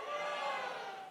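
A large audience at a laughter therapy session cheers loudly and steadily, a dense wash of many voices held for a moment.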